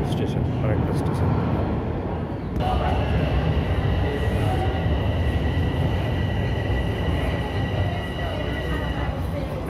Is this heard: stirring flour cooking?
no